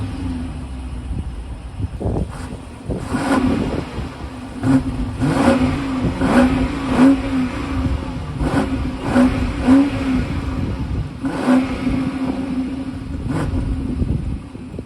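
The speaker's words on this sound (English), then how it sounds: "that V8 sounds sick" A 2023 BMW X6 M50i with its twin-turbo V8 revving hard, repeated throttle blips and deep rumbling surges under a steady idle drone, close and loud with no talk.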